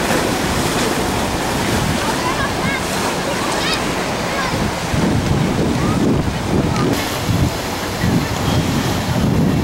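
Ocean waves breaking at Waikiki Beach in Honolulu, Oahu, on a hot, nearly windless day, a steady loud wash of surf with rolling crashes close by, mixed with some microphone wind rumble.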